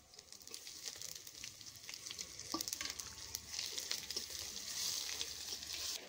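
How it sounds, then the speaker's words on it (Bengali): Dried red chillies, bay leaves, whole cumin and garlic paste sizzle and crackle steadily in hot oil, with occasional stirring scrapes, the frying growing a little louder toward the end. "তেল গরম হয়ে গেছে, এর মধ্যে দিয়ে দিচ্ছি শুকনো লঙ্কা, তেজপাতা, গোটা জিরে আর রসুন বাটা।"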